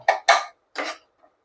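Onions and spices being stirred in a pan for an egg dish, giving three short scraping, clattering bursts of utensil against cookware, close and clear, with a brief pause between the second and third and no talk.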